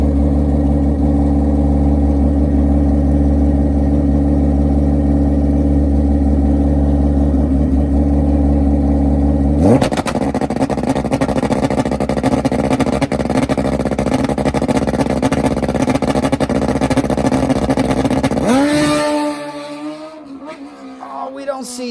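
A Suzuki GS drag motorcycle at an NHRA drag strip, its engine droning loud and steady, then rising in pitch as it accelerates away and fades at the end; commentary voices are mixed in.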